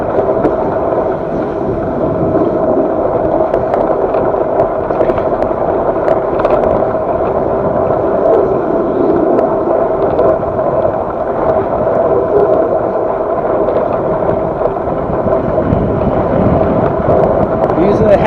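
Continuous rough wind buffeting roars across the built-in microphone of an Akaso EK7000 action camera during a ride, a steady loud broadband rush with no break throughout.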